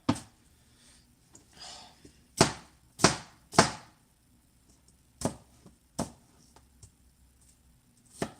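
A knife chops through an onion on a cutting board in a home kitchen, a handful of sharp, close, separate strikes spaced unevenly, with quiet pauses between them.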